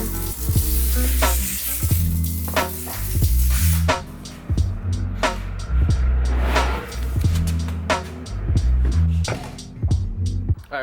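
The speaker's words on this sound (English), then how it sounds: "I'm trying to air this one up and it's being a pain." An air hose hisses while inflating a tire on a BMW E36, loud and continuous at first, then in rough bursts mixed with clicks and knocks as the fitting is worked, with no talking.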